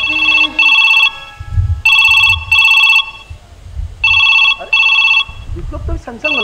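A telephone rings with an incoming call in repeated bright electronic bursts, loud and close, with voices talking in the gaps between rings during a jatra folk theatre performance.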